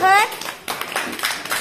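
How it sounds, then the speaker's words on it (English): Schoolchildren in a classroom clap for a classmate: a brief voice, then a short run of light, uneven hand claps, fairly faint and close. "Clap for her"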